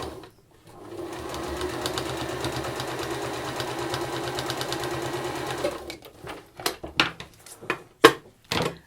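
A sewing machine top-stitches a patchwork quilt seam in a steady, fast mechanical run for about five seconds, then stops and gives way to a few sharp clicks and handling knocks.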